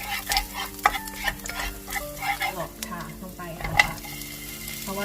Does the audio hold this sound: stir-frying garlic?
yes